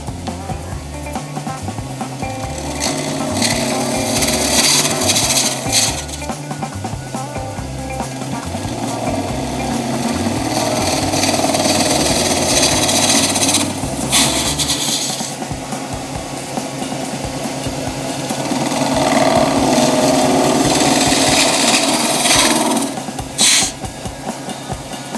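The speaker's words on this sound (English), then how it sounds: "See how I go with this tool rest with the spindle gouge." A spindle gouge cuts a purple, blue and pink epoxy resin shaving brush handle spinning on a wood lathe, giving a close, continuous rough scraping hiss over the motor's hum. Louder bursts come as the tool bites, with no talking.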